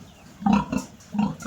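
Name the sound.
newborn piglets and sow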